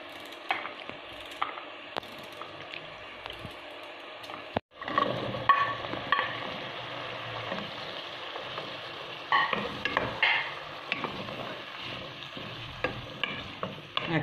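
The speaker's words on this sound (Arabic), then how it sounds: "نقطع الزرودية هكذا دوائر، نديرها هكا تتقلى مع البصل والطماطيش" Zucchini rounds fry with onion and tomato in a pan, giving a steady close sizzle broken by spoon scrapes and clicks, with a brief near-silent dip midway before the hiss returns.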